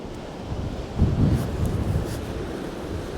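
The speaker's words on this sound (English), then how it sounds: "Some fair waves coming as well." Ocean waves break and roll on a Cornwall beach as a steady, broad rumble, swelling a little partway through and mixed with wind buffeting the microphone.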